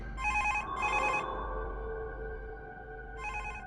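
A telephone bell rings in two quick bursts, pauses, then rings again, clear and fairly near over a low hum.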